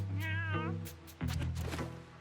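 Kitten meows from the video game Mewgenics, two or three rising, harmonic calls in quick succession, close and clear, with no talking over them.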